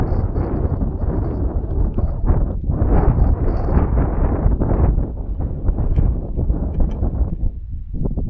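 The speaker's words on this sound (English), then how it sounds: "It's too windy." Strong wind gusts at the Paso Pehuenche mountain pass on the Argentina–Chile border, a continuous loud roar with heavy buffeting across the microphone and no break in the rush of air.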